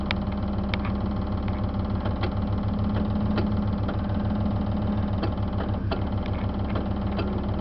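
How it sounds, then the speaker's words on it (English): A Generac generator on a Dolphin Class A motorhome labors as it tries to crank, giving a steady, rapid mechanical chugging and thrumming. The sound is close and even for the whole stretch, with a few faint clanks on top. "The Generac is trying to turn it."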